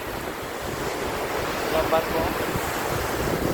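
Strong wind and big ocean waves roll in at a beach resort on Mactan, Lapu-Lapu, Cebu, a steady close roar of surf with wind buffeting the microphone and a brief voice.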